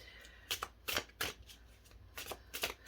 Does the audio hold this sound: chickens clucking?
no